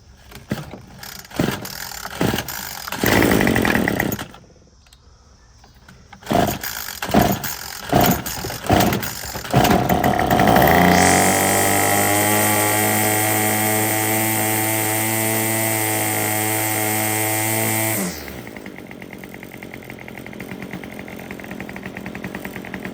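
Small engine of handheld two- or four-stroke equipment after a fuel line install: repeated pull-start rattles, then it fires and runs loudly with a steady buzzing drone for several seconds before cutting out.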